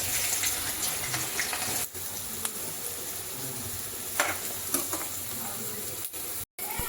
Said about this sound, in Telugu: ఆనియన్ అయితే కొంచెం బ్రౌనిష్ కలర్ వచ్చే వరకు ఫ్రై చేసుకోవాలి.